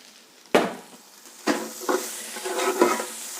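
Spatula stirring turmeric powder into food frying in a pan, with a steady sizzle under several distinct scraping strokes spaced about a second apart.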